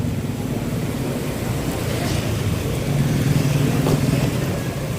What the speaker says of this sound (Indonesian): Maka tak heran kalau petang-petang ramai sekali motor di sini